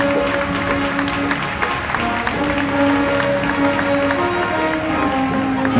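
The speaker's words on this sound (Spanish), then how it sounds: "Un fuerte aplauso para el alcalde." Sustained crowd applause for the mayor at the 2014 Conil spring fair, where he is crowning the children's fair queen. The clapping is steady and fairly loud throughout, with a tonal hum or music running beneath it.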